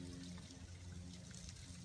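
Waste water from an RV black tank drains through a hose, a faint continuous rushing and gurgling flow, steady and alone, without voices.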